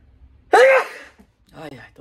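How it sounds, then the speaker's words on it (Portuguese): A single sharp human sneeze bursting out after a quiet moment, followed by a softer breathy vocal sound. "tô até espirrando aqui"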